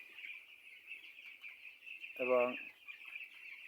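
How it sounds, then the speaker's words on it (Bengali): Chickens on a small poultry farm holding about 400 birds, set above a fish pond, give a short burst of clucking midway through, over a constant high insect-like hum. "খামারের ভিতরে 400 মুরগি আছে"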